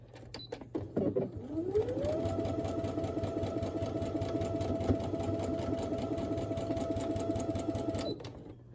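A sewing machine fitted with a quarter-inch foot whirs into a fast, steady stitching run on quilt patches, close by, spinning up after a few clicks and stopping abruptly near the end.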